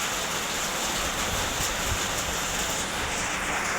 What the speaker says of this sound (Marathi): हे पहिल्यांदाच पाऊस पडत आहे।